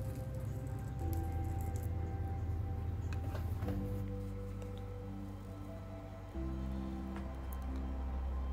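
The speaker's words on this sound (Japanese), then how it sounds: "これ超音波アイロンの音をちょっと聞いていただきたいです" Ultrasonic flat iron buzzing steadily while pushing first-stage solution into hair during a straightening treatment in a salon, a continuous close sizzling hum with tonal bands that shift slightly in pitch, no talk.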